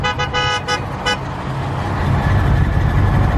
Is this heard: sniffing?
no